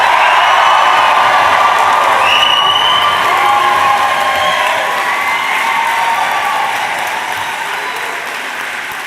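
Graduates at an autumn awards ceremony cheer and applaud loudly inside a historic building, a dense roaring crowd with whoops and shouts that holds steady and slowly eases off.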